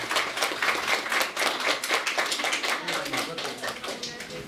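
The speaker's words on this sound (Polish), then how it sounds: "Proszę państwa, także olbrzymie brawa" Applause from an audience at a school year-end ceremony in Umianowice, a steady dense clapping sustained throughout, close and loud, with a voice speaking over it.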